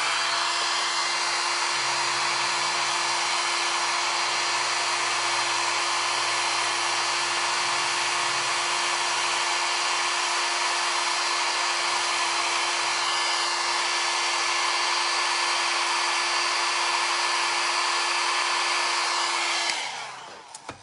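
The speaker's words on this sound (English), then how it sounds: "I'm gonna go ahead and blow dry again." A hair dryer blows continuously at close range during a makeup session, a loud steady whirring drone with a constant pitch that runs for about twenty seconds before switching off abruptly at the end.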